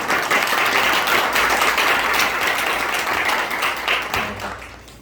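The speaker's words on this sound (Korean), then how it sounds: "우리 목사님 영광의 큰 박수로 환영해 주시기 바랍니다" Sustained, dense applause from a church congregation at a Daejeon workers' mission gathering welcoming a pastor to the pulpit, loud and steady throughout before thinning slightly near the end.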